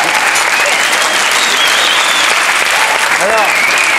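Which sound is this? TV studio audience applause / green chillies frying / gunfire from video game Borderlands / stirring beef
TV studio audience applause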